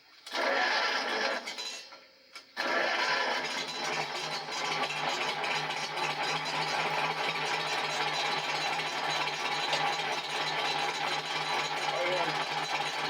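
A 1953 Farmall Super C tractor engine idles slowly and steadily after a brief stumble near the start, a continuous close, even mechanical rumble with a faint voice underneath.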